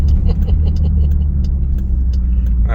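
Mopar upgrade exhaust on a 2017 Dodge Durango R/T rumbles steadily and loudly from inside the moving vehicle, with a constant low drone and faint background speech.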